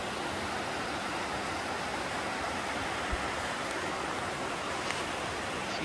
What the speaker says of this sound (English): So I believe this is Still Creek Falls,